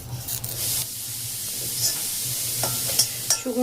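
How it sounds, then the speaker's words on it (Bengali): Dried neem leaves fry in oil in an iron wok, a close hissing sizzle with spattering pops and a few light stirring scrapes. "নিম পাতায় তেল দিয়ে দিয়েছি দেখুন কড়াইয়ে, আর ভেজে নিচ্ছি।"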